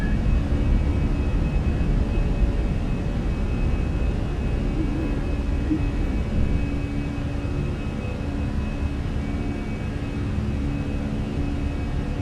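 Fenix A320 airliner climbing after takeoff in Microsoft Flight Simulator: a steady, loud broadband jet engine roar with a low rumble, constant throughout with no voices.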